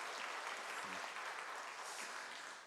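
A church congregation claps together in sustained, dense applause that holds steady and then begins to taper off toward the end.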